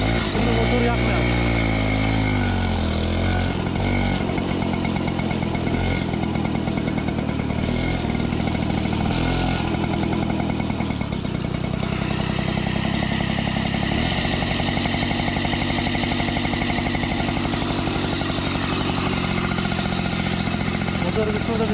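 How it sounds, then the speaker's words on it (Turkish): A Peugeot 103 moped with a 49 cc engine, crash-damaged, runs loud and close with a steady buzzing putter and a clattering rise in revs partway through, while someone talks over it. "Motoru bir şurada bir çalışsın bakalım."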